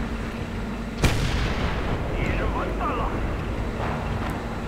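Tank cannon fire in the World of Tanks video game: one sharp, loud report stands out early, then rumbling battle noise continues under a commentator's voice.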